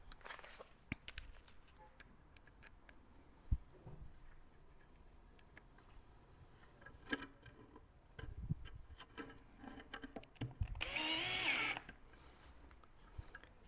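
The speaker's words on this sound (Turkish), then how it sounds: "Sehpanın ayağını azıcıktan açaraktan vidalıyoruz." Small screws are driven by hand into the leg of a zigon nesting coffee table, giving faint, sparse ticking and clicking in a quiet room, with a brief louder scraping burst near the end and no talking.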